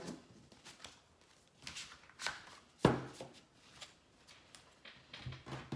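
Oracle cards are shuffled by hand for a love reading, giving soft, irregular papery riffles and rustles with one sharper slap near the middle, fairly quiet and with no talk.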